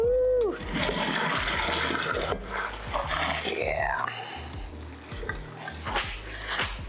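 Cooked macaroni is strained in a kitchen, water splashing and gurgling as it pours out, with clattering pot sounds and a short spoken word partway through.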